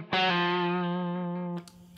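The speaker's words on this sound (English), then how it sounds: "And let's add some of that reverb." A single sustained distorted electric guitar note rings through an AmpliTube 5 Mesa Triple Rectifier amp simulation with reverb added, held for about a second and a half before it is cut off, leaving a short tail.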